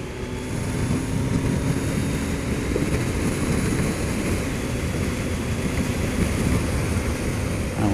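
A motorcycle engine pulls steadily on an open road, its loud continuous drone and rumble carrying wind noise throughout, with no talk over it.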